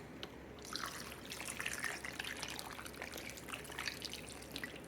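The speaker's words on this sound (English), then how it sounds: "So I'm going to add more water." Water trickles and splashes steadily into a pot of Hungarian stuffed peppers, a soft continuous pour heard up close with no talking.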